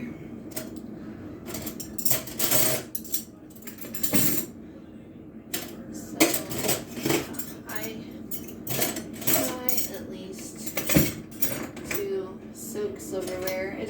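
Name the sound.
silverware being loaded into a dishwasher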